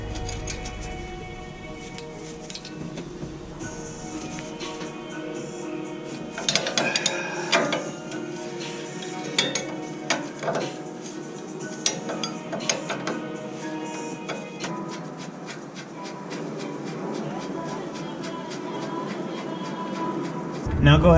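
A ratchet driving a 19mm socket, clicking in uneven runs with mechanical clatter and occasional sharper knocks, while a person talks over much of it.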